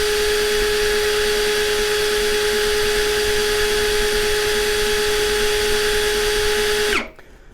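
A Worx cordless drill runs in gear 1 at a steady, loud, unbroken whine for about seven seconds, then cuts off abruptly and winds down into near silence.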